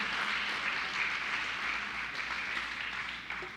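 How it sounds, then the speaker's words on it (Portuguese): An audience applauds at a church gathering, a dense steady wash of clapping that runs throughout at moderate level and tapers slightly near the end. "Pode aplaudir aí, vai."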